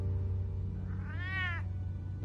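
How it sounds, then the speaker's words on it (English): Catwoman's cat in the Batman Telltale Series video game gives one drawn-out, clear meow midway through, set against a steady low hum of game background sound. "Oh, Catwoman has a cat."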